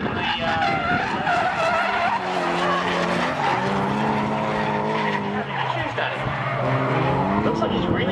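Drift cars, including a Nissan S14, skid and squeal their tires during a tandem battle at a drift competition, with loud continuous engine roar and tire noise throughout and a commentator talking over it.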